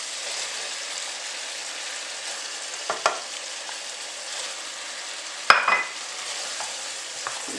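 A chickpea stew with carrots bubbles softly in a frying pan with a steady low sizzle, broken by two brief scraping stirs of a utensil, the second louder and closer.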